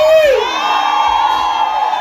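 A birthday party crowd erupts in loud, close shouting and cheering, overlapping voices rising in a sustained whooping cry that lasts the whole moment.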